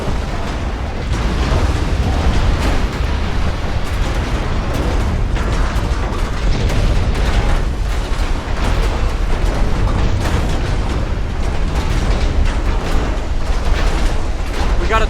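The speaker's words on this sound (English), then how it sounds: "Got a torpedo hit on the battle cruiser." Torpedo hits on a battle cruiser in the naval battle game Ultimate Admiral Dreadnoughts, heard as a continuous loud roar of explosions and rumbling booms with scattered pops and no breaks.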